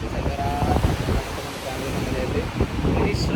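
Sea waves and wind at Seven Sisters beach in the UK make a steady, rushing roar with gusts buffeting the microphone, continuous and fairly loud throughout.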